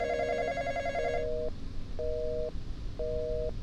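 Telephone ringing inside a Roblox game: repeated electronic double-tone rings in even bursts roughly once a second, steady and fairly loud, with a busy, signal-like tone at the start and no talk.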